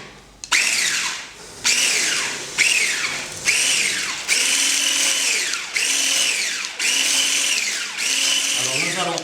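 Electric hand whisk beating a mascarpone mixture for tiramisu, loud and close, whirring in repeated bursts of a second or so, each with a rising then falling whine as the beaters work the cream.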